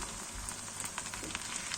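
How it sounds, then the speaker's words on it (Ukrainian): Grated potatoes and onion frying in a covered pan make a faint, steady crackle and sizzle, a dense patter of tiny pops with no voices. "і перемішую, смажу під кришкою"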